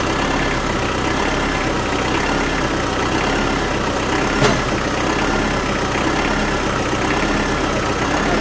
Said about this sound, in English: So I'm going to talk with the engine on now.